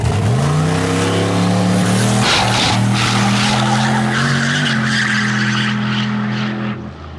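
A drag race car makes a full-throttle pass down the track on low boost, its engine roaring loud and steady with strong harmonics, with tire-spin skidding and squeal near the start and the sound fading slightly at the end.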